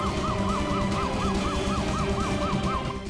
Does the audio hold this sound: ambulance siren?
yes